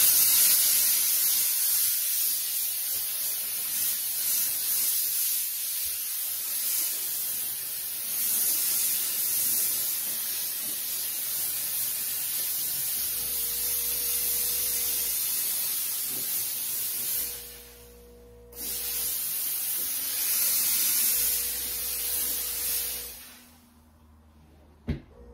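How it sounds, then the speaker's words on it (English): A Fortador semi-industrial steam cleaner sprays dry steam on fabric in a steady, loud hiss throughout, with a low pulsing hum from the machine joining in intermittently and brief pauses near the end. "So I think I'm going to prefer dry steam without hitting that button."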